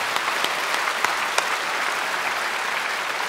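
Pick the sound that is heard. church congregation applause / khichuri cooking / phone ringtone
church congregation applause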